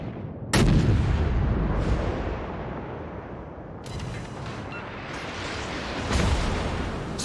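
Battleship guns fire HE shells in the World of Warships naval game: heavy booming salvos hit at intervals, each followed by a long rumbling roar that slowly fades.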